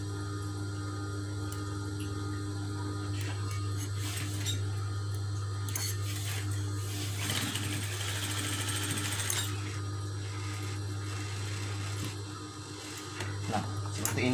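A sewing machine stitches a fabric face mask in a steady, close mechanical whir with rapid needle clatter, running continuously with a few brief pauses and small handling noises.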